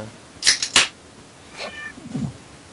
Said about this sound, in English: Shut your cat up.